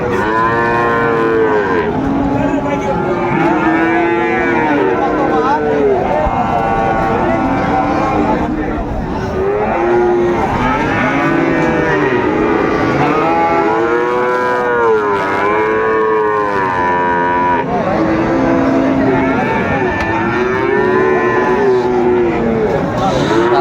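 Friesian and cross-breed bull calves moo over and over, overlapping loud calls close by, with a crowd murmuring in the background throughout, at a cattle market in Dinajpur.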